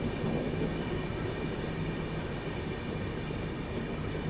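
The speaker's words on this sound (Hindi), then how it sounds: "धीरे धीरे हमारी गाड़ी स्किप कर रही है Dehri on Son railway station." A West Bengal Sampark Kranti express rolls through Dehri on Sone railway station, giving a steady, loud onboard rumble of wheels and carriages with no distinct beats.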